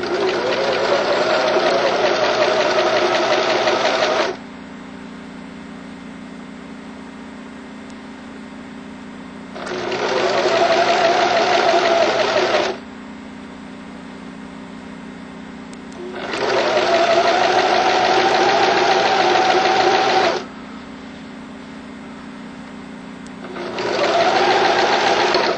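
Sewing machine stitching a tarp seam, running loud and close in long steady bursts of several seconds each with quieter pauses between, over a constant low hum.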